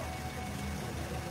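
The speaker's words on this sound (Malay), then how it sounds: "Ini bunyi bearing water pump" A Toyota Vios engine with a worn water pump bearing gives a quiet, steady, rough mechanical hum for just over a second, close to the engine bay.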